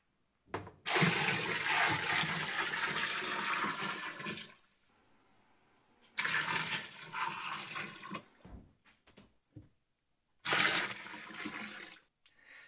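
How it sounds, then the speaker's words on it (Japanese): Hot water gushes into a washing machine tub in bursts, loud rushing pours separated by quiet pauses and brief splashes, with no talking. "お湯入れて、ちょうどお水の高さも合ってきました。"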